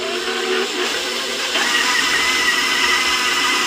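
An electric mixer whirs steadily through colored cookie dough at a bowl, a continuous close motor drone that rises slightly in pitch partway through, with no talking.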